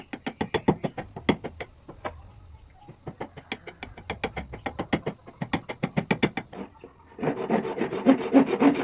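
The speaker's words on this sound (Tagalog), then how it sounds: "dahil sobra yung hawakan pinutulan natin ito para sakto lang yung haba" A hand saw cuts through a wooden saw handle in quick, rhythmic back-and-forth strokes, close up, pausing briefly before a rougher, denser stretch of sawing.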